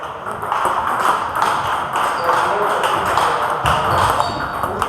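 A table tennis rally with quick, repeated ball clicks and taps over a steady, noisy indoor background, with no clear pauses.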